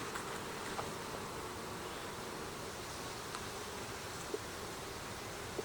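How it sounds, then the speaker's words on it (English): Steady insect buzzing from many honey bees around a hive, a continuous low drone with occasional faint clicks, fairly quiet and without voices. "There are a lot more bees on the outside, but no brood."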